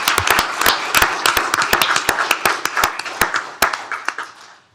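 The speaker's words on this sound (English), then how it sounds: "Let's give him a big round of applause." Sparse, fairly close clapping from a county commissioners court audience honoring a deputy's 35 years of service, distinct individual claps in an uneven rhythm that thins out toward the end, with no talk over it.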